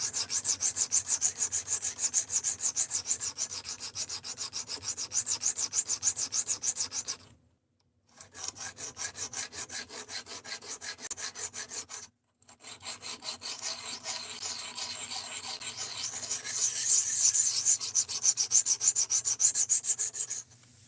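Steel blade being sharpened by hogging off material on a stone or abrasive, a steady scraping rub with rapid back-and-forth strokes, close and loud, broken by two short pauses, with no talking.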